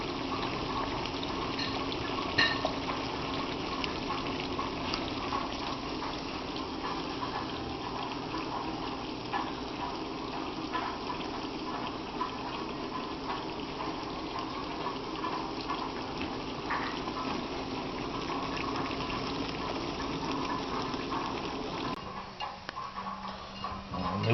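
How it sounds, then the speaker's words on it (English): Regular spaghetti boiling in a pot of water, a steady bubbling, rolling simmer heard close and continuous, with a faint clunk near the end and no talk. "This is the spaghetti cooking, which is just regular spaghetti"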